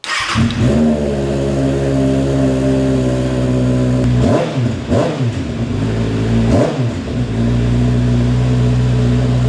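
A 2026 Kawasaki ZX-6R motorcycle with a slip-on exhaust idles loudly and steadily, then revs up sharply twice with deep throaty bursts before settling back to a rumbling idle.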